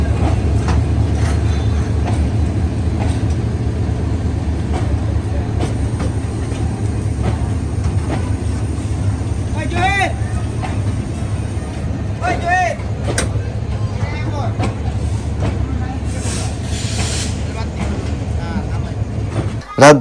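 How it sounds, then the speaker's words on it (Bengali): Subarna Express, the Dhaka–Chittagong train, runs on the rails with a steady, loud low rumble and clatter that lasts throughout, while faint voices and brief higher tones surface now and then over the noise. "ভিডিওতে যে ট্রেনটি দেখছেন এটি ঢাকা চট্টগ্রামের সুবর্ণ এক্সপ্রেস"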